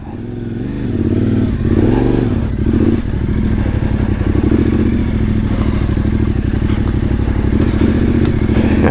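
Yamaha Tenere 700 motorcycle with its stock exhaust pulling away, the engine revving up through a couple of quick gear changes, then holding a loud, steady, throbbing drone close by.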